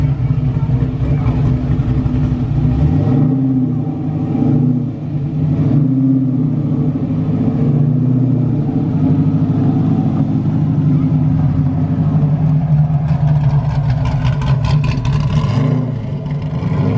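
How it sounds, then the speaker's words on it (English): Ultima GTR supercar arriving at a classic and supercar Sunday show, its engine a loud steady rumble with low droning tones that swell and ease as it rolls in close. "Ultima GTR just turned up"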